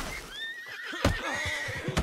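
A horse in the video game Red Dead Redemption 2 gives a long, clear whinny that rises and wavers, with a couple of sharp hoof thumps close by.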